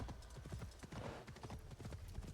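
Steady clip-clop of horse hooves trotting in Assassin's Creed Shadows, a quick, even rhythm, fairly close and continuous throughout.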